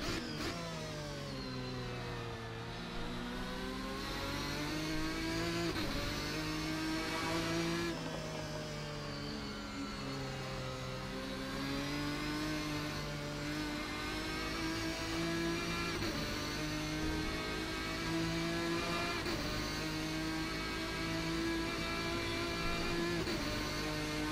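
An RSS GT1 race car drifting at Road America in the racing sim Assetto Corsa: a loud, continuous engine howl rising and falling with revs and gear changes, sustained and close, with no talking.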